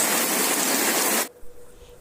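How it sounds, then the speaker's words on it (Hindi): Heavy rain pours down in Gurgaon as a dense, loud hiss that cuts off abruptly partway through, leaving faint quiet noise afterward. "आज तो गुड़गांव में सही बारिश हुई, काफ़ी दिनों बाद इतनी अच्छी बारिश हुई है।"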